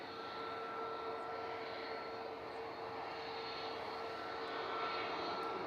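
A jet airliner roars steadily at Manchester Airport, a broad, sustained engine rumble with a faint tonal whine, heard from a distance without talk.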